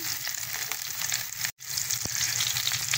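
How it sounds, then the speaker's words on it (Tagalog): Garlic sautéing in hot oil for a papaya dish, a steady bright sizzle that cuts out for a split second midway and then resumes just as strong. "Ready na tayong maggisa-gisa ng ating papaya. Ayan, naglagay na tayo ng bawang"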